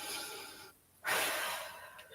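A slow breath drawn in during a seated forward-fold yoga stretch toward the big toe, soft and close, with a brief quiet gap before a long, airy exhale that fades gradually.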